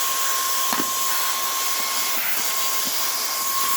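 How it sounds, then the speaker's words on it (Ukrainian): A compact cordless X8 air blower runs continuously with a loud, steady airy whoosh and a thin high whine, close by and unbroken. "потужна така повітродувка"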